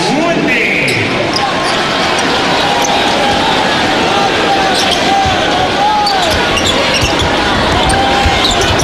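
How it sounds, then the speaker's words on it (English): Orlando Magic fans slap thundersticks in a crowded basketball arena during a 2003 playoff game against the Detroit Pistons, a loud continuous rattling clatter blended with crowd roar and court squeaks, with play-by-play commentary talking over it. "That's why the Thunder stick slapping from the Magic fans."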